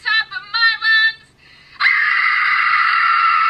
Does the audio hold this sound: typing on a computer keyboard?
no